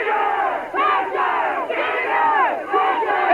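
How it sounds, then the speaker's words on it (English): A sellout crowd roars and cheers at a monster truck show in Louisville, a loud, sustained wall of voices rising and falling in waves throughout. "This crowd is nearly as loud as the monsters themselves."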